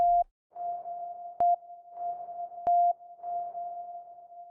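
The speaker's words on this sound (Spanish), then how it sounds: "Vamos a escuchar primero el sonido limpio y luego su reverberación." A steady pure test tone from FL Studio plays clean, then repeats with a convolution reverb applied, sharp click transients marking each repetition and soft diffuse tails trailing each tone.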